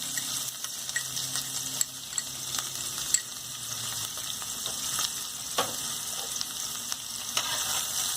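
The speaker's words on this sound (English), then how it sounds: "Our oil is heated now. Now we will add cumin seeds. Finely chopped onion." Finely chopped onion frying with cumin seeds in hot oil for a chickpea curry, a steady close sizzle with occasional stirring clicks and spatula scrapes, no voices.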